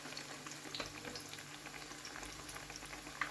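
Potato cutlets frying in a pan give off a steady, quiet sizzle and bubbling of oil. The sound stays even throughout, with small crackles and one tiny pop near the end, and no voices.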